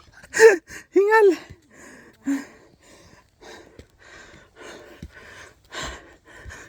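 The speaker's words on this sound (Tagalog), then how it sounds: "Hingal." Heavy panting outdoors, with a few loud gasping breaths early on that fade into softer, irregular huffs and breaths, close to the listener.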